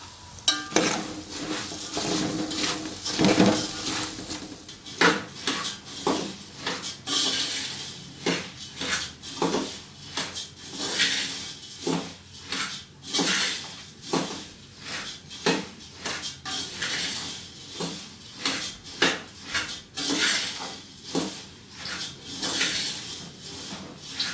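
Tempered puffed rice (mamra) with salt, turmeric and sugar is stirred in a pan, giving repeated scraping and rustling strokes in a steady rhythm with light metallic clinks for over twenty seconds; nobody speaks.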